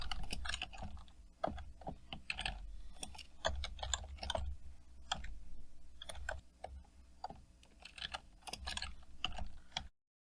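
Computer keyboard keys clatter in quick, uneven bursts while C++ code is typed, with occasional heavier strokes of the enter key, close and clear with no talking.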